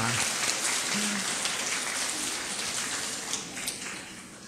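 A church congregation applauds during a Sunday worship service, a dense, steady clatter of clapping that slowly fades.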